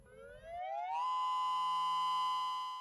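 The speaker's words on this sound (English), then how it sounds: "The last time these sirens sounded in Hawaii was February 27th" A civil defense tsunami warning siren in Hawaii rises in pitch over about a second, then holds a loud, steady wailing tone on its own.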